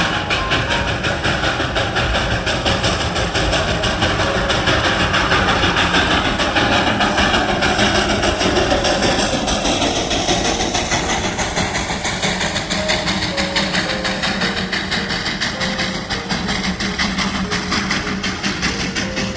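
A coal-fired steam engine of the Darjeeling toy train runs at Batasia Loop, giving a steady, loud rumbling chug with a constant mechanical drone and hiss throughout, no voices.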